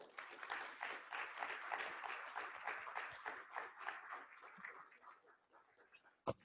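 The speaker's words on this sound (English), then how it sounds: "Members and guests, please help me in giving these officers a well-deserved round of applause" A room of members and guests at a women's council board installation gives the newly installed officers a lively round of applause, with many hands clapping in rapid, uneven bursts that thin out toward the end, capped by one sharp knock.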